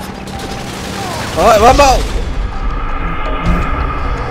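Gunfire erupting inside a house in GTA V, a rapid booming volley over constant game noise, with a voice exclaiming loudly through the burst.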